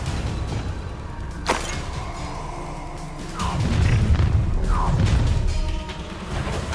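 A Confringo spell explosion in the Hogwarts Legacy video game bursts in deep rumbling booms with whooshing magical swishes, loud amid continuous combat effects.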